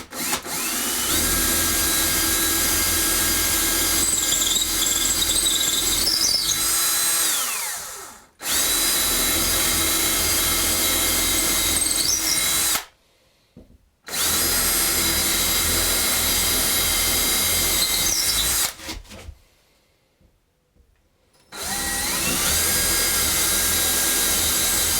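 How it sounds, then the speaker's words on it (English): A power drill drills holes, whining loudly in long bursts, stopping and starting several times with brief silences between runs, close up and with no talking. "I'm going to go ahead and drill the rest of these"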